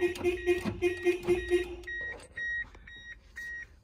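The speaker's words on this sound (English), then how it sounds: "I think it has some dumb aftermarket alarm." An aftermarket alarm on a 2002 Mazda Miata Special Edition beeps nearby in a rapid even chain of tones, then breaks into a slower run of short shrill chirps.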